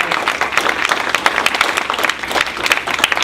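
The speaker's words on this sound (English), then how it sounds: "Let's give a round of applause for the House" Audience applause at a Republican women's congressional forum in New Hampshire: brisk, dense clapping from a roomful of people, close and fairly loud for about three seconds with little talk.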